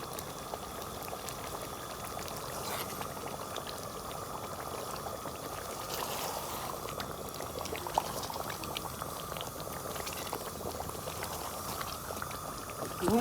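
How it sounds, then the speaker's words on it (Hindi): Chicken karahi sizzling and frying in a pan with black pepper added, a steady bubbling hiss that continues evenly throughout, with no talk. "भून लेते हैं हम 1 से 2 मिनट तक अच्छी तरह भून लेते हैं।"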